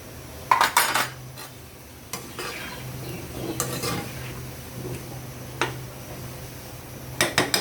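Pieces of pumpkin dropped into a pan of spices and stirred, with sharp clinks of a utensil against the pan, scraping and a soft sizzle beneath, in irregular bursts at close range.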